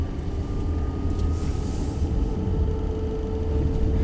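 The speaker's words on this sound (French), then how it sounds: "le bruit des moteurs électriques" A steady low drone of an Audi e-tron electric car driving on the road, its electric motors giving a faint whine running through it, continuous and even, no voices.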